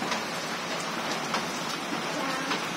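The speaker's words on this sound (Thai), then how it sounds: "ที่บ้านฝนตก" Steady rain falls at a home in Thailand, a dense continuous patter of drops on surfaces with faint scattered louder taps, heard alone throughout.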